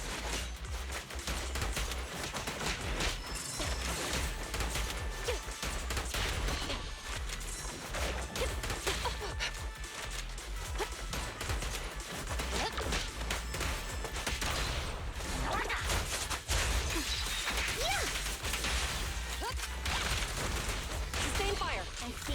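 Sustained gunfire in the video game Zenless Zone Zero, with rapid shots, crashes and impacts running steadily for over twenty seconds at moderate loudness beneath intermittent voices.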